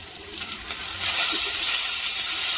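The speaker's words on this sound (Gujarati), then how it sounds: "હવે પલટાવી લઈશું તે બીજી બાજુ પણ આ રીતે આપણે તેને ફ્રાય થવા દેવાના છે" Whole tomatoes fry in hot oil with a continuous bright sizzle that grows louder and fuller partway through and stays steady to the end, with no voices.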